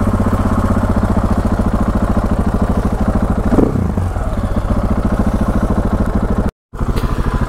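A 2016 KTM 690 Enduro R single-cylinder motorcycle runs steadily and loud up close, with a constant throbbing engine note, a brief rev swell midway and a short dropout near the end.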